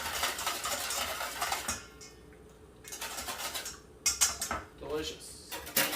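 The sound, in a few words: mixing dry rub spices in a bowl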